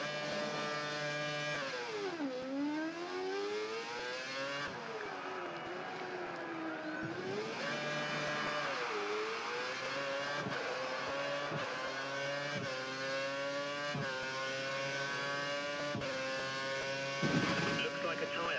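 A Formula 1 car in the F1 2013 video game accelerates out of a hairpin, its high-pitched engine note climbing steeply through several gear changes, loud and continuous at close range.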